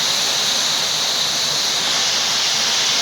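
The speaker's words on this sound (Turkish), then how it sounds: "5000 defa dönüyormuş bu fırçalar." Spinning brushes of an automatic car wash at a carpet and auto wash in Güzelyurt, Aksaray, give a steady, loud rush of water spray and whirring that holds constant throughout, with no talk.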